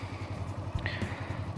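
Motorcycle idling close by with a steady low throb as first gear is engaged, a brief clunk partway through and no talking.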